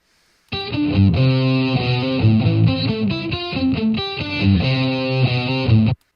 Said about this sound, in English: Maybe crank the distortion here.